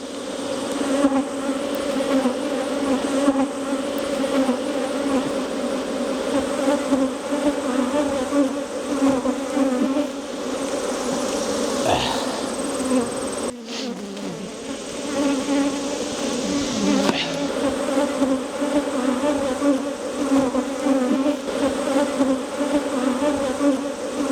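Honeybees buzzing around an open hive as it is worked, a dense, steady swarm drone that carries on close and loud for the whole stretch with no talking.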